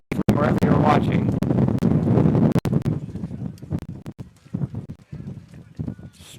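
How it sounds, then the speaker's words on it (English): Strong gusty wind buffeting a microphone in the press box at a men's lacrosse game, loud irregular low rumbling bursts with sharp pops, easing off toward the end. "Strong gusts certainly having an effect on us here in the press box"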